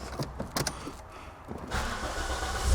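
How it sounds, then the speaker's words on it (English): A car in a garage is started after the clutch is pressed: a few clicks and cranking turns, then the engine catches into a steady running rumble. "start the beast up, turn the old machine on"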